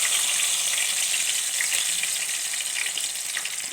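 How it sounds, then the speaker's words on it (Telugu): Chana dal and urad dal fry in oil with a continuous close hiss and fine crackling, fairly even in loudness and without any voices. "ఫస్ట్ శనగబ్యాళ్ళు, మినపబ్యాళ్ళు వేసేసింది."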